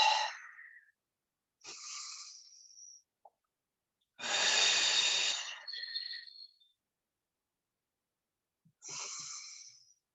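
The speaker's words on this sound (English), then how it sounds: "breathe deep into the tummy" Deep breaths drawn into the belly during a relaxing mobility stretch, rest pose with head and shoulders down; four slow, airy breaths alone with long quiet gaps between them.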